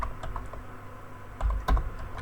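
Typing on a computer keyboard while filling in a vendor form in Odoo ERP software: irregular light key taps with a couple of heavier strokes, close and without talk.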